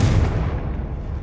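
A Confringo fire spell explodes in the Hogwarts Legacy video game, a single loud booming blast that rolls away and fades over about a second.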